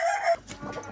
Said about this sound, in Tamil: இங்கே பாருங்க முட்டை போடுற கோழி இருக்குது.